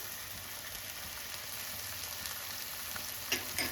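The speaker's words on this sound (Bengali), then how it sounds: "এখন এটাকে একদম কম আঁচে কিছুক্ষণ একটু রান্না করে নিতে হবে।" Chicken cooking in a pan over low heat, with a steady soft sizzle and faint crackle throughout, a couple of brief louder pops near the end.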